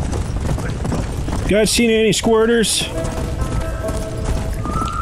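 Horse hooves clip-clop steadily in the video game Undead Redemption, a continuous rhythmic patter beneath a voice talking, with a brief animal-like call in the middle.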